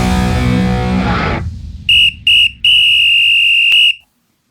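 A whistle shrills three times, two short blasts and then a longer one, loud and piercing right after a burst of music cuts out.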